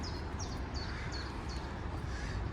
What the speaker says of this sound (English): Birds are very chipper today.